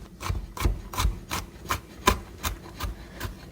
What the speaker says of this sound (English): So the way I'm chopping it right now is I'm holding down the top.